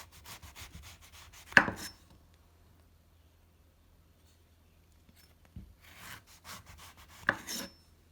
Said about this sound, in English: First, cut off the top and bottom of the orange.